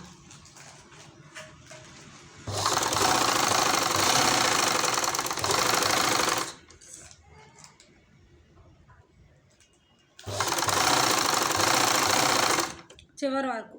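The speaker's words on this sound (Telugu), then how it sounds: "మెయిన్ క్లాత్ని రెండు కూడా ఒక స్టిచ్ వేసేయండి. చివరి వరకు కూడా మెయిన్ క్లాత్ రెండు స్టిచ్ వేసేయండి." A sewing machine stitches two main cloth pieces of a frock together in two loud, steady runs of rapid mechanical clatter, separated by a quieter pause with faint handling sounds.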